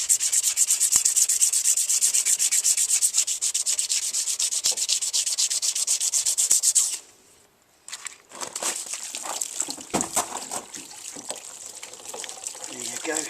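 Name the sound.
rubbing paint off a motorcycle part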